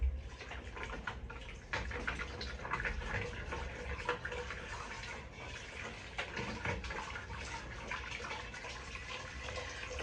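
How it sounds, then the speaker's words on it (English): Kitchen tap water runs steadily into a sink while a pot is scrubbed clean, a continuous soft gush with small clatters and splashes, quiet and close with no voices. "I'm gonna wash this up and get the roast going"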